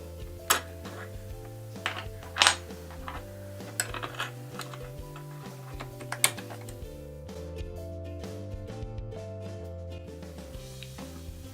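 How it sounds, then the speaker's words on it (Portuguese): A sewing machine with a zipper foot stitches a zipper onto the fabric of a makeup pouch, giving a steady motor hum laced with rapid ticking and a few sharper clicks. "eu vou costurar com o pé de zíper já"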